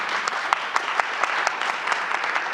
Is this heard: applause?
yes